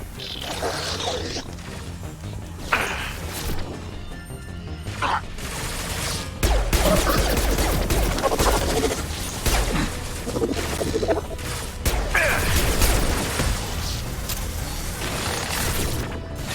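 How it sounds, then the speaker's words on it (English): Heavy gunfire and impacts in the sci-fi shooter Mass Effect 2, a dense, continuous barrage of shots, crashes and whooshes that swells loud partway through and stays intense to the end. "Taking heavy fire!"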